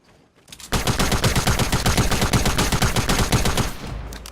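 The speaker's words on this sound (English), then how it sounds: "The fire rate on it is so beautiful that I ended up popping him right through his shield." Submachine gun firing in a video game, a single sustained burst of rapid, evenly spaced shots lasting about three seconds, loud and close with nothing else over it.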